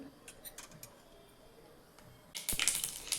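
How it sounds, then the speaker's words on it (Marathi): Mustard seeds splutter in hot oil and butter in a pan for tadka dal fry, at first a few faint scattered ticks, then a denser burst of crackling pops toward the end. "मोहरी छान तडतडली बघा"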